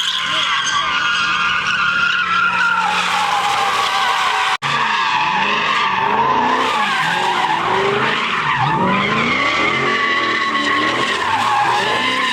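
Mustang at a car meet spinning its tires through an intersection, with loud sustained tire squeal and revving engine, skids rising and falling in long waves and crowd noise faint beneath.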